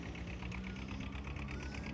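A small 1955-model tractor with an oversized smoking exhaust pipe runs at a tractor festival, its engine giving a faint, fast, even chugging pulse throughout.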